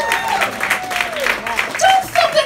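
Comedy club crowd in Ireland breaks into brief clapping and laughter while a woman on stage keeps talking over it.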